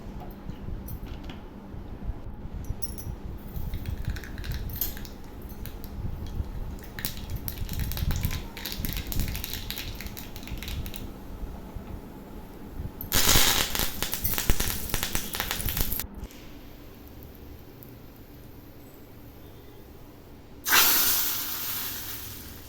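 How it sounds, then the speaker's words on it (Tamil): Mustard seeds and curry leaves sputter in a little hot oil in a pan while tempering for moong dal sambar, giving a low crackling hiss with two loud bursts of intense spluttering sizzle. "ஒரு பேனில் கொஞ்சமாக எண்ணெய் விட்டு அதில் கடுகு, கருவேப்பிலை சேர்த்து தாளித்து குழம்புல ஊற்றிக்கலாம்"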